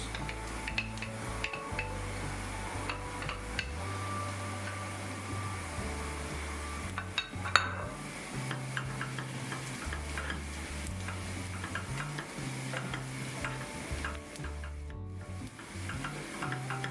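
Tomato paste is stirred and sautéed in a pan for Amasya-style stuffed vine leaves with borlotti beans, giving faint scraping and ticking stirs with a low, soft sizzle throughout and no speech.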